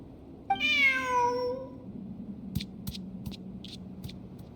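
A cat in a video game gives one clear, drawn-out meow up close, followed by a few soft clicking taps over a low background hum.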